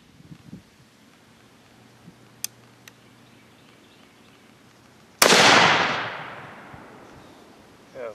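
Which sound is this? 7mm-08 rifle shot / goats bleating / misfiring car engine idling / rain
7mm-08 rifle shot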